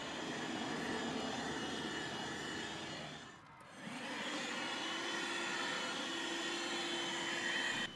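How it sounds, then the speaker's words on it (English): A small 120W Pagurio handheld car vacuum whirs steadily up close while cleaning a car, its motor pitch dipping briefly midway before resuming a constant high whine, no talking. "It's so easy to take this vacuum out and start cleaning the car up"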